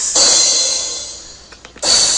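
Two crash cymbal sample hits in FL Studio, each with a long, bright, washing tail that slowly decays; a few faint taps fall between them.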